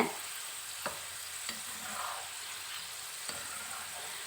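Avarebele mixture deep-frying in oil, heard as a soft, steady sizzle with occasional light clicks of a spoon or ladle against the pan, fairly quiet and without talk.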